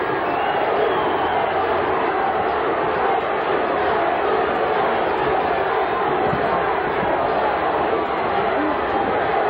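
A boxing arena crowd cheering on fighter Reggie Green during his bout with Zab Judah, a constant loud roar of many voices with a commentator talking over it.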